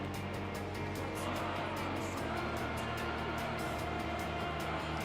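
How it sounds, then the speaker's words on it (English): Racing car in Gran Turismo 3 pushing wide with understeer, its tyres scrubbing under a steady, loud engine drone that runs continuously without a break, with faint rhythmic pulses riding on top of the steady roar. "You do hear a bit of understeer"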